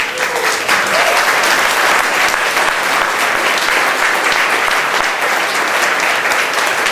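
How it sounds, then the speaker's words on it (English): Sustained audience applause fills a book launch event for a book on sex trafficking, steady and dense clapping from a sizable crowd throughout, with no voices rising above it. "I hope you don't get tired of clapping"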